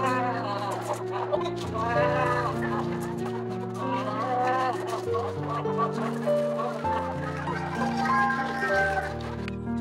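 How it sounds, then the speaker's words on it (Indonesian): Breeding hens on a village chicken farm cluck and chatter steadily over a backdrop of music with a steady bass line. "ini dia ayam indukan generasi pertama kami"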